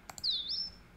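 Short bird call sound effect in a game ambience editor: two quick clicks, then a single squawking chirp that sweeps down and levels off, clear and isolated over a quiet background.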